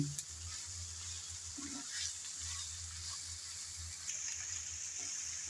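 Mustard oil heats in a pan for a kochur loti dish, giving a faint, steady hiss over a low background hum with no talking.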